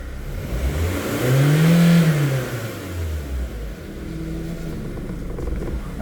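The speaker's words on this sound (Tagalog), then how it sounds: "sabi niya pag revolution nagda-drop yung RPM, then sometimes namamatay" Hyundai Accent engine with a stalling fault, idling as its RPM drops and fluctuates: a close, steady mid-pitched engine note that rises and sags unevenly.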